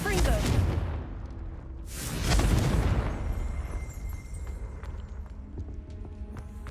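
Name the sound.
Confringo fire spell blast in the video game Hogwarts Legacy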